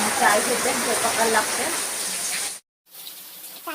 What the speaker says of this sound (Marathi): भरपूर असा पाऊस पडत आहे